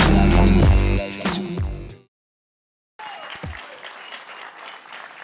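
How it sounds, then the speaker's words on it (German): Audience applause at a summer celebrations stage show, loud dense clapping for about two seconds that fades to silence, then resumes more softly with scattered claps and crowd noise. "Also begrüßt ihn mit einem tosenden Applaus zurück auf unserer Bühne."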